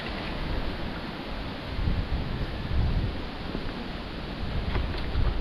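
Strong wind blows outdoors in broadband gusts, rising and falling in waves of buffeting noise against the microphone, steady and fairly loud with no one talking.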